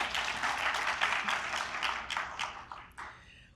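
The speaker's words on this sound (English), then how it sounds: "Now you can clap." An audience in Seattle applauds at an event, dense clapping that holds steady and then thins out toward the end, with no talk over it.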